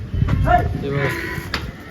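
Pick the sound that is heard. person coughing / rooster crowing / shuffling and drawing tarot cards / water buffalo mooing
water buffalo mooing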